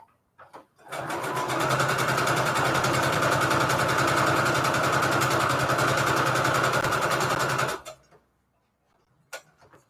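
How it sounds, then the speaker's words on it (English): A sewing machine runs a straight stitch while making Christmas tags, a fast, even mechanical whir and clatter held for about seven seconds before stopping, with a few faint clicks before and after. "Good time to practice your straight stitch here."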